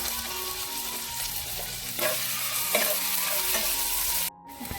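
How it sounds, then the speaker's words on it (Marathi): Garlic and asafoetida fry in hot oil while being stirred, a steady close sizzle broken by scraping stirs, ending with a sudden brief drop near the close. "तापलेलं आहे आपण आता लसूण टाकूया हिंग टाकूया"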